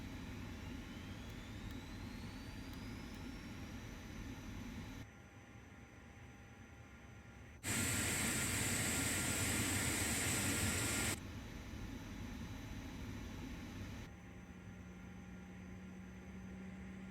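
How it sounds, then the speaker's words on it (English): Airbus A330-300 engine number one spools up during start in Microsoft Flight Simulator 2024: a rising turbine whine and steady roar, with a loud burst of hissing air midway before settling into a smooth hum. "ignition start engine number 1."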